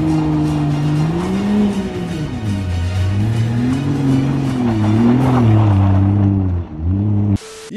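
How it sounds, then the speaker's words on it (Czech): A car drifting on snow, its engine revving loudly and continuously with rising and falling pitch as the throttle is worked, close and unbroken, cut off abruptly near the end. "Driftuj se svým novým autem na sněhu."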